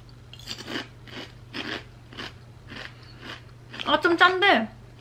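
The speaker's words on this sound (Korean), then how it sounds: "미니 사이즈 블랙 트러플 칩이고 감자 칩입니다. 한번 먹어볼까?" Mini black truffle potato chips are bitten and chewed close to the mic, a series of crisp crunches in an uneven rhythm, growing louder and denser toward the end.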